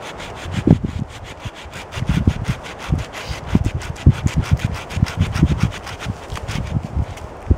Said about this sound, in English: this saw cuts on both the pull and the push, which is great